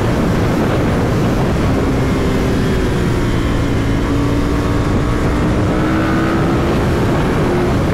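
A Ducati 916 motorcycle engine pulls hard in fourth gear toward 11,000 rpm, a loud continuous roar with a slowly rising pitch under heavy wind noise.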